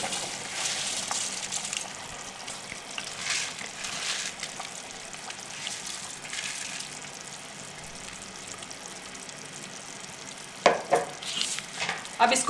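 Rice stirred into a pan of sizzling vegetables for vegetable pulao, a soft continuous fry with scraping stir strokes, quiet overall, with a few louder clattering stirs near the end.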